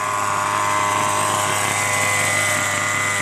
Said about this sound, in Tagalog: Helicopter tayo. Yan ang helicopter niya.